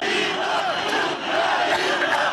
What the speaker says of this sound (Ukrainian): Активісти намагаються будь-що перекричати одне одного